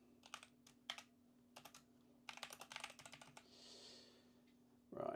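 Computer keyboard typing in quiet bursts of rapid clicks with short pauses between, close and faint against a steady low hum, with a soft breath near the end.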